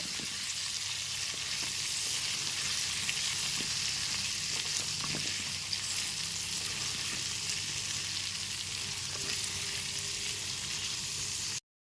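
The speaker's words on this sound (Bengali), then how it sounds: "গ্যাসের ফ্লেমটা মিডিয়ামে রেখে পটলগুলোকেও লাল করে ভেজে নেব" Pointed gourd pieces fry in oil in a pan over a medium flame, giving a dense, even crackling sizzle that holds steadily throughout with no voices.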